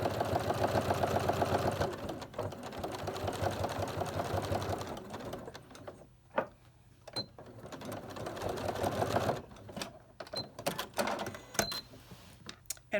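A sewing machine whirs in short stitching bursts along the seam of a zippered pouch, pausing for back stitches and starting again, close and fairly quiet.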